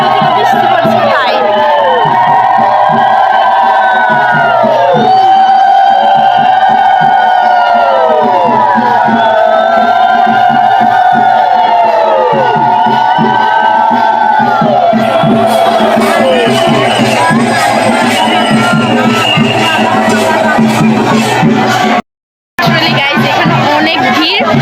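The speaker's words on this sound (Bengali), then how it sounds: "অনেক ভিড়, তোমাদেরকে কি বলবো, মানে কথা শোনা যাচ্ছে কিনা তাও জানি না আমরা।" A large noisy crowd gathers in the rain, a dense roar of chatter, shouts and whoops with children's cries, loud and continuous, briefly cutting out near the end.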